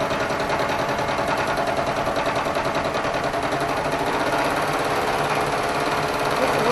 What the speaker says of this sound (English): this is going to be the first cut across this. Excuse me, turn the feed on.